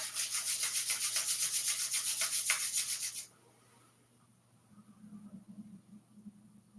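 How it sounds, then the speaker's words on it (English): Palms rubbed together briskly in a steady, close, fast friction rhythm for about three seconds, then stopping abruptly and leaving a faint low hum and soft murmur. "rub the palms together and cup them gently over the eyes"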